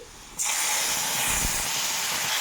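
Ground green chilli, ginger, garlic and tomato paste hits hot oil with fried onion in a pan, bursting into a loud, steady sizzling hiss that holds on without a break.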